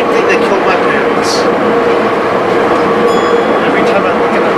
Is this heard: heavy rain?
no